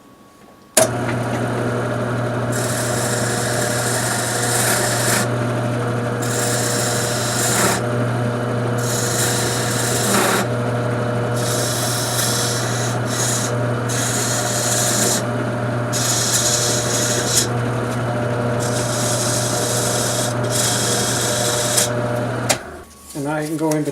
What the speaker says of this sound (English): I'm just going to take a detail chisel